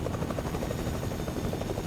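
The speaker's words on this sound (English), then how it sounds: "Hold on, let me land a helicopter." A video-game helicopter drones steadily with a fast rotor chop, loud and continuous with no pause.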